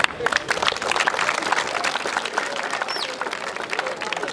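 A crowd at a Congolese gathering claps in thick, continuous applause, many hands close and lively, with scattered voices and a short whistle mixed in.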